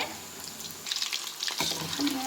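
Chicken kebab pieces frying in oil, a steady soft sizzle that gets busier and louder partway through, with light bubbling crackle and no talk.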